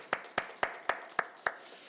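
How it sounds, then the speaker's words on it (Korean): A church congregation offers a round of applause of praise: six crisp, evenly spaced hand claps in a steady rhythm, faint and fairly close, with nothing else heard. "하나님께 감사와 영광의 박수를 올려드리겠습니다."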